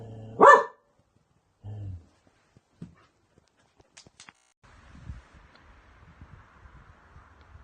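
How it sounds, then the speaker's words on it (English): A single sharp dog bark near the start, then a lower yelp, followed by quiet clicks, rustling and a faint steady tone. "What are you barking at now?"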